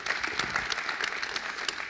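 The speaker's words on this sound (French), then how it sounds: "On peut l'applaudir fortement." A crowd at an ecology round-table conference claps loudly for an honored guest speaker, a dense, lively burst of many hands with a few sharper individual claps, close and sustained throughout.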